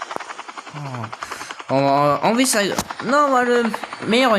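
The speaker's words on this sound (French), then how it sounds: "mettez-le dans l'hélico" A helicopter in a bank-heist roleplay video game, its rotor chopping steadily in the background under loud, overlapping voices of players talking.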